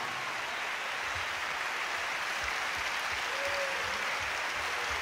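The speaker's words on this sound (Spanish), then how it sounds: "El aplauso para mis compañeros músicos y cantantes de Puerto Rico." An audience claps for Puerto Rican musicians and singers at a symphonic salsa concert, giving a steady, even wash of applause that stays level and somewhat distant throughout, with no voices.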